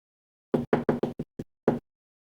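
A nail dip powder container is tapped on a hard surface, seven quick close knocks in an uneven burst, then silence.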